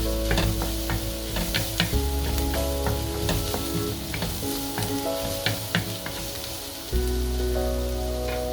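Pumpkin soup ingredients with rosemary and black pepper being stirred in a pan, a continuous sizzle with repeated clattering spoon strokes and a low steady hum beneath.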